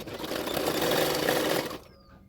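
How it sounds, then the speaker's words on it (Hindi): A sewing machine runs a continuous stitch for under two seconds on a blouse hook strip, an even, rapid whirring that stops abruptly, leaving quiet. "अभी उसको फोल्ड करते हुए पीछे की तरफ और एक सिलाई डाल दूंगी।"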